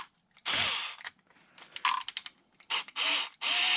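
A hand ratchet clicks in short bursts while loosening bolts on the crash-damaged front end of an Arrma Felony RC car, close and crisp, with quiet gaps between pulls.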